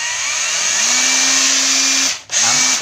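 An old used cordless battery drill with a drill and hammer-drill selector runs with a steady, loud whine, ramps up, briefly cuts out near the end, then spins up again; no talking.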